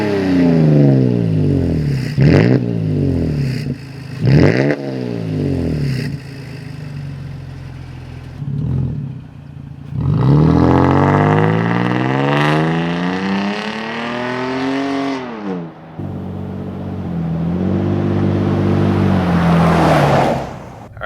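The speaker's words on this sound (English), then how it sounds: "All right, so just a little light acceleration" A Toyota Tacoma fitted with a Carven aftermarket exhaust accelerates through several gear changes, the tone rising and falling in repeated sweeps with a long, loud pull in the middle, then settling into a lower cruise drone, recorded up close.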